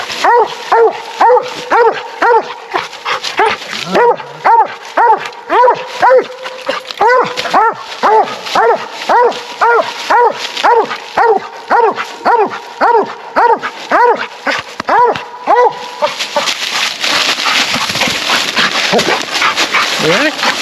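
A coonhound named Hustle barks steadily at a tree on a cold, windy night coon hunt, loud and close with a rapid, regular chop rhythm that continues for the whole stretch, while wind noise rises near the end.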